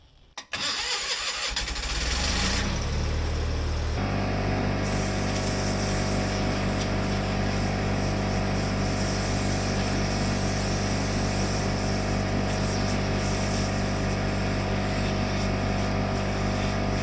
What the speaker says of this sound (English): I need the air compressor to get those holes cleaned out.